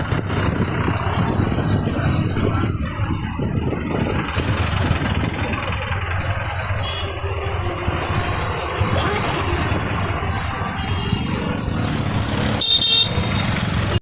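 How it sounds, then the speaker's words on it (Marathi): In a traffic jam in Bhiwandi, motorcycles and cars idle with a steady engine drone while horns honk repeatedly, some near and some farther off, including a loud toot close to the end. "पण अख्खं ट्रॅफिक जाम झालं होतं"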